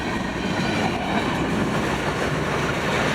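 A freight rock train rolls past on the rails, producing a loud, steady broadband rumble with rail noise. It continues unbroken and close throughout, with no voices.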